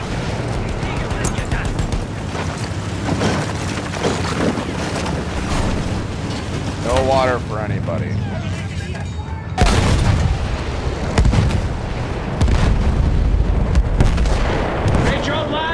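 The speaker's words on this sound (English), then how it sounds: "A lot of explosions." Explosions and artillery fire in the video game Battlefield 1, loud booms and gunfire bursts throughout with a big blast near the middle, mixed with shouted speech.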